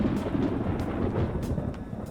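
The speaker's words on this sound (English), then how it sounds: "It sounds like it's going to rain." Thunder in Persona 5 Royal rumbles steadily and heavily before rain, with a dense low roll that fills the whole stretch and faint hiss on top.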